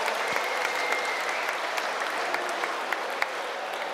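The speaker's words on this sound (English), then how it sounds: "another big round of applause for both of these men" Steady, dense applause from a ringside crowd at a boxing event after a three-round bout, continuous clapping with a few sharper claps standing out, no talk over it.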